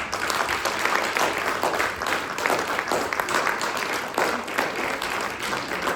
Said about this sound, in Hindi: जोरदार तालियों के बीच स्वागत कीजिए मुक्ति के राइटर डायरेक्टर कैलाश सोनी जी का।